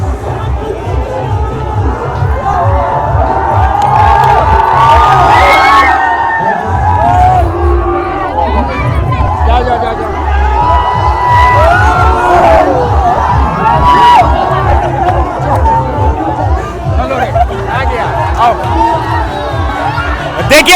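Large crowd of young people at Tejashwi Yadav's political rally in Muzaffarpur, cheering and shouting loudly in a dense, continuous roar, with rhythmic chanting pulses and close voices talking over the din.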